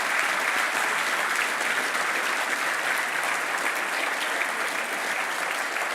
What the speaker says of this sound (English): can we please have one final round of applause for our winners all year long?